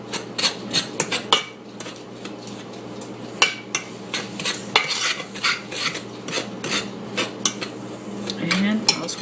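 A spoon stirring a chocolate pie mixture in a pot or bowl, with repeated sharp scraping and clinking strokes against the sides, close and fairly loud, in an uneven rhythm.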